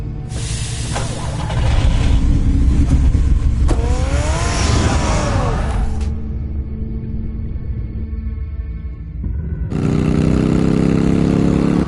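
A car engine in Batman: The Telltale Series video game revs loudly and up close, a dense roar that climbs in pitch, drops to a lower idle hum, then surges again.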